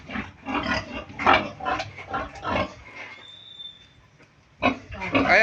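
Pigs grunt and snort in short bursts on a farm, close and fairly loud, with a brief quieter pause before the grunting resumes.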